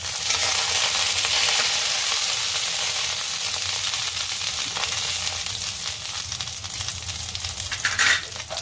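Eggplant bhaji cooking in a pan gives a loud, steady sizzle and frying hiss, with occasional stirring scrapes and a brief clatter near the end.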